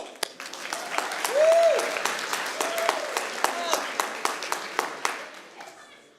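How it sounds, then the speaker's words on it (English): Audience applause fills a high school grad night gathering, a steady patter of many hands clapping with a voice briefly over it. "So give him a round of applause."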